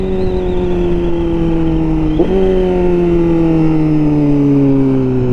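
A 2021 Honda CBR1000RR-R Fireblade SP with an ECU flash pulls hard in second gear, its engine droning loud and close with a steady tone that drops briefly at a gear-like shift, then continues smoothly.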